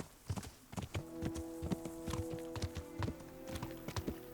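A horse walks in the medieval video game Kingdom Come: Deliverance, its hooves clip-clopping in a steady, close rhythm over a soft musical drone, with no talking.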